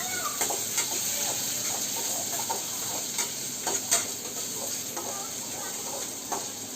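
Onions frying in hot oil in a pan, a steady close sizzle with scattered light scrapes and ticks from stirring, no talk.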